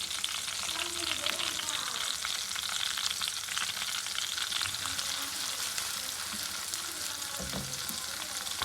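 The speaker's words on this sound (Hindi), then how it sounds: "ये देखें जी, प्याज अब ब्राउन करेंगे।" Grated onions frying and browning in a pan for aloo gobhi, a steady close sizzle with a crackling hiss throughout, plus occasional soft stirring scrapes.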